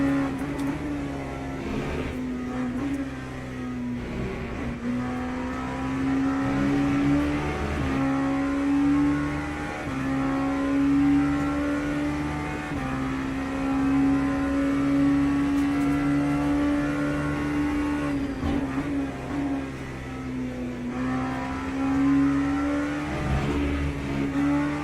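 LMP2 race car engine in the Le Mans Ultimate racing game, a steady droning hum cruising at moderate revs with gentle pitch rises and dips, continuous and fairly loud throughout, no voices.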